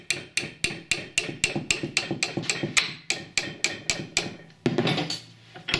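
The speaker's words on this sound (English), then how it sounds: "just use a hammer to see if I can bend it round" Repeated hammer blows on a metal piece held in a vise, bending it into a curve for a Viking-style brooch; about fifteen sharp, ringing strikes in a steady rhythm, close and loud, with a scraping shuffle near the end.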